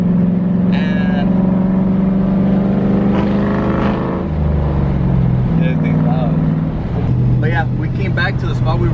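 A 2000 Ford Mustang New Edge with a 4.6 engine and five-speed manual, idling and revving up through the gears close by, with pitch steps between shifts and people talking over it.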